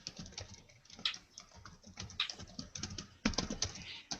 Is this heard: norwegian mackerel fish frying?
no